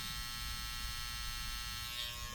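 An American Barber ZEROGAP cordless hair trimmer runs with a steady, high-pitched electric buzz, close and constant throughout.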